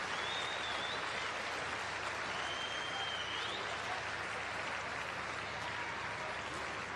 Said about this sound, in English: Round of applause from her manager